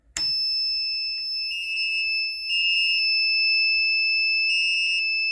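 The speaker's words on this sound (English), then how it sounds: "There's our horn strobe." A fire alarm horn strobe wired to a Loganetics CE-2224 panel blares a loud continuous electronic tone close by, joined by short pulsing beeps from the panel buzzer, with no talking over it.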